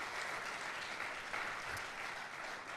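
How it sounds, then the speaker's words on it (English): A room full of people at a morning startup community event in Fargo breaks into steady, dense applause, a continuous wash of many hands clapping from start to finish with no voices on top. "let's give them a round of applause"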